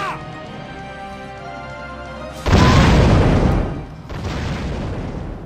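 In a video game, a loud missile explosion bursts in with a heavy boom and roar after a steady droning hum, then a second, weaker rumbling blast follows about a second and a half later.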